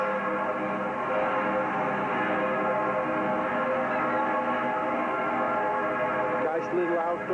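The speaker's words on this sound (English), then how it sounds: "I love those bells." Church bells ring in a German town, a dense, steady peal of layered tolling tones that continues throughout at moderate loudness, with a person talking over it.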